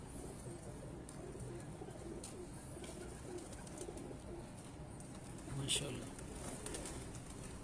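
Teddy pigeons on a Pakistani rooftop give soft, low cooing that runs steadily under a voice, with a brief louder bird call near the end.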